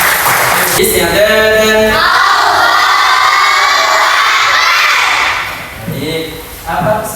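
Children in a classroom clap and cheer loudly together, a dense crowd of shouts and applause that holds steady for several seconds before easing, with an adult voice speaking briefly over it at the start and end.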